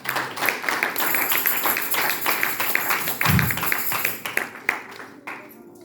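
A church congregation claps in a quick, even rhythm of sharp hand claps throughout the room, with a brief low thump midway before the clapping fades near the end.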